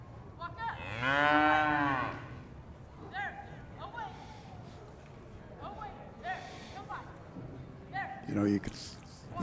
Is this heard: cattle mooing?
yes